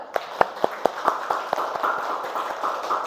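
Students in a classroom clap out the 'tepuk salut' chant: several sharp group claps in quick rhythm, then a softer, denser patter of clapping under classroom murmur.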